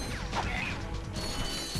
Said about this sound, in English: smashing boxes.